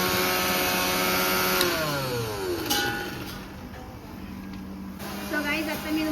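A kitchen mixer grinder runs loud and close with a steady whining motor drone. Its pitch sweeps downward as it slows, then it starts up again near the end.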